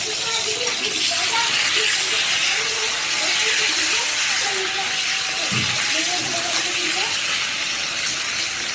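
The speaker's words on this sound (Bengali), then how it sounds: "আলুগুলো দিয়ে দিল, এবার আলুগুলো ভেজে নেবে, একটু ফ্রাই করে নেবে আলুগুলো" Potatoes frying in hot oil in a village kitchen give off a steady, close sizzling hiss that runs unbroken throughout, with faint background voices.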